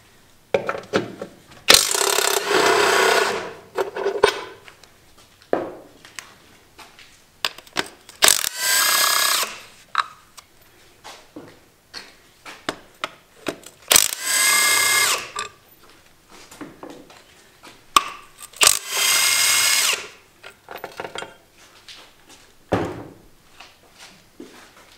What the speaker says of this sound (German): Jetzt muss man die 4 Schrauben mit einer 16er Nuss rausschrauben.